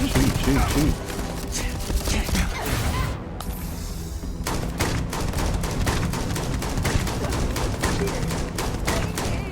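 Rapid bursts of gunfire fill the Starfield video game, with dense sharp shots crackling almost without pause. There is a brief lull, then the shooting resumes loud and close over steady game noise.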